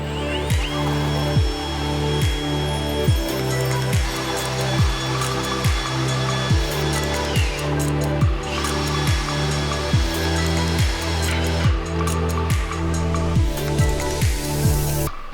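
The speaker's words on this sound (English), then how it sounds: "I'm using a cordless drill to drill the holes through the press frame." Cordless drill boring holes through a steel hydraulic forging press frame, whining steadily with repeated pitch-dropping bursts as the bit bites and eases, loud and close with no talk.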